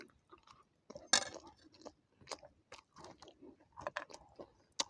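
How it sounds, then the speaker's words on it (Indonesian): Crispy fried tempeh being chewed close up alongside rice, with a series of sharp, crunchy bites and irregular chewing bursts broken by short quiet pauses. "Tempenya juga crispy, kriuk."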